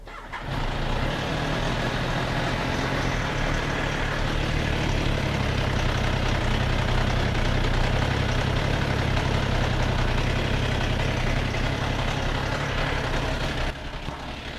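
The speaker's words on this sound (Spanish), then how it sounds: "vamos a prender la moto para chequear los valores en el momento que la encienda" A Benelli motorcycle with a stretched or misaligned timing chain starts and settles into a steady, loud idle, a dense continuous engine rumble running unbroken for about thirteen seconds before a slight drop at the end.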